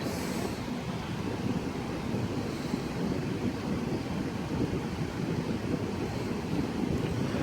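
A Vornado 160 fan with a tiny motor and deep-pitch blades runs on high speed, giving a loud, steady whoosh of moving air close to the microphone, with no speech.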